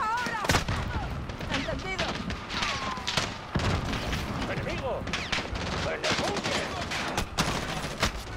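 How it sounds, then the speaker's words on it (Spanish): Gunfire in Call of Duty Modern Warfare: dense rapid bursts of automatic fire and sharp shots crack almost continuously, mixed with heavy thumps and booms, loud and close. "Mira los tiros, no le disparan."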